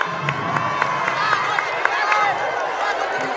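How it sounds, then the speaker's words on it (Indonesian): Audience applause and cheering at an Indonesian political campaign event with Anies and Muhaimin, a dense crowd clapping steadily with shouts mixed in. "Sekali lagi tepuk tangan dong."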